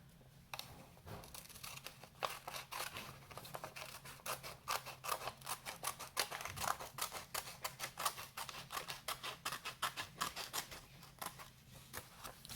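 Scissors snipping through paper to trim it into a square for paper stars, a rapid run of crisp close cuts repeating steadily, quiet with no talking over them.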